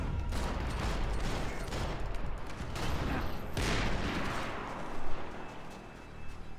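Gunfire in Max Payne 3 crackles in repeated sharp bursts amid a chaotic firefight, with heavy booming shots and continuous volleys under a busy combat din.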